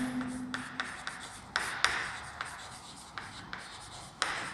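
Chalk or marker strokes on a classroom board during a lecture, a steady run of short scratchy taps and drags spaced irregularly, close and fairly loud with no talk over them.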